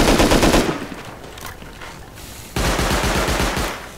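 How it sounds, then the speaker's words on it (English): Auto turret firing during a raid in the Rust video game: a loud burst of rapid automatic gunfire, a lull, then a second sustained burst of fast, evenly spaced shots, close and loud. "Watch out, turret. Auto turret."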